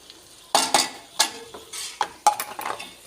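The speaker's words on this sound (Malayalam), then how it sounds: "ഈ അരപ്പുമായിട്ട് ഈ പൊടികളെല്ലാം നന്നായിട്ട് ഇളക്കി യോജിപ്പിച്ച് കൊടുക്കണേ" A spoon scrapes and stirs chilli, turmeric, coriander and masala powders into a sizzling tomato masala in a pan for egg biryani, with irregular close strokes and soft frying, and no talking.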